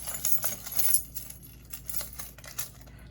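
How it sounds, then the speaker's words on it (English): Apartment keys jangle and clink in a busy metallic rattle, loudest at the start and then settling into lighter intermittent jingles close by. "I'm going to grab my keys and I'm going to tuck them in my bra"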